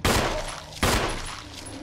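Gunfire in the video game Resident Evil, two loud sharp shots about a second apart, each followed by a short decaying echo.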